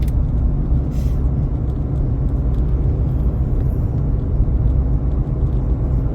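Steady close road noise from a car driving on a smooth road, a continuous low rumble and tire roar with no breaks and no talking.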